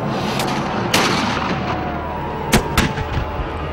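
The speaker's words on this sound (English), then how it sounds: "It took nearly a day for Cromwell's guns to breach the walls." Cannon fire from Cromwell's siege guns battering town walls, heard as a few sharp, loud booms spaced irregularly over a steady rumbling background, with no voices.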